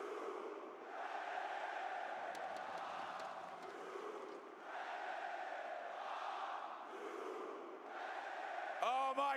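An esports arena crowd cheers and roars in long swelling waves, sounding somewhat distant and muffled. Brief dips separate the surges, and a clicky sound flutters at the close.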